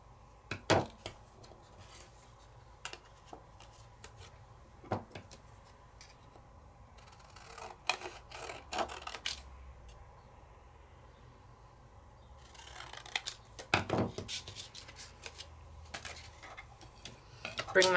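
A Sizzix Sidekick die-cutting machine cuts a circle with sparse clicks and ticks, a couple of short cranking passes of rolling mechanical grind, quiet and close, with a brief voice at the start.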